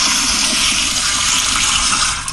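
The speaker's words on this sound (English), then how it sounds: "We need a double flush this week." A power flusher toilet flushing, a loud, continuous rushing gush of water close by that runs steadily for a couple of seconds and begins to taper at the end.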